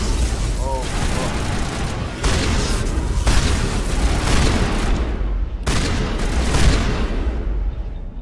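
Shotgun blasts in Mass Effect Legendary Edition ring out as several loud, separated booms amid ongoing combat noise, with someone talking over the action.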